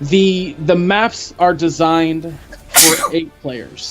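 Someone talks steadily, and a loud, abrupt sneeze bursts out partway through, close to the microphone, before the talking resumes.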